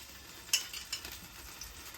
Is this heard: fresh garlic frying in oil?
yes